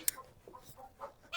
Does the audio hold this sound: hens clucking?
yes